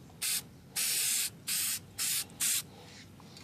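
Basic spray paint hits alloy rims in five short, loud hissing bursts with brief pauses between them, close up and with no talk.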